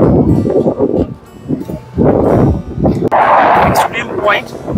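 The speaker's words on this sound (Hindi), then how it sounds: "बहुत जोरों की यहाँ पर हवा चल रही है" Strong, gusty wind buffets the microphone at the far end point of Digha-Mohana sea beach, loud rumbling bursts rising and falling throughout with a short lull, under someone speaking.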